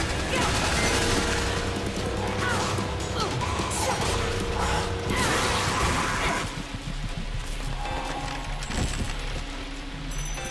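Fireworks in the video game Let It Die, played on PC: a dense, loud run of crackling bursts and booming pops that fills the whole stretch, easing a little partway through before the barrage carries on, layered over busy game sound.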